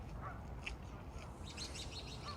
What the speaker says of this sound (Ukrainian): І крики диких гусей кличуть вас.